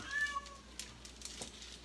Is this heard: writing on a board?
no